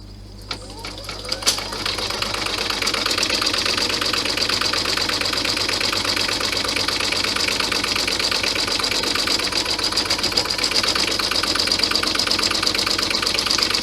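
A sewing machine stitches Santa bag straps, starting with a few clicks then settling into a fast, even mechanical whirr with a rapid needle chatter, steady and close for the whole stretch.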